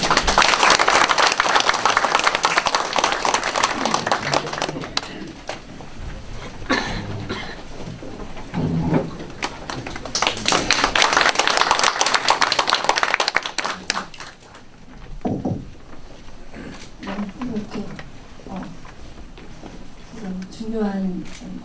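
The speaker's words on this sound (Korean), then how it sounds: "많은 박수 부탁드리겠습니다" Audience applause at a launch ceremony in Korea, greeting a soprano professor before her congratulatory song, a dense crowd clapping in two loud swells with a quieter pause between them, a voice speaking over part of it.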